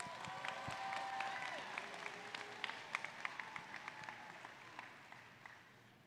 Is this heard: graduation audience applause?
yes